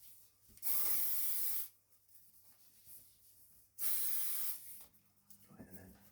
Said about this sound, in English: next one's a spray, an aerosol spray. So I'm going to spray this on myself